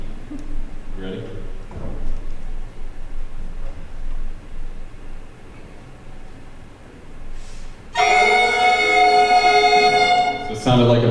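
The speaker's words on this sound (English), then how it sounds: "we worked on playing our mouthpieces, or the head joints, to create a fundamental sound" Wind instrument mouthpieces and flute head joints buzzed at once by a school band room of students, a loud honking, squawky mass of sustained tones bursting in after a stretch of quiet room noise and continuing to the end.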